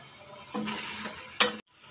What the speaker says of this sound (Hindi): तो ऑयल डाल के इसको अभी मैं भूनूंगा अच्छी तरह।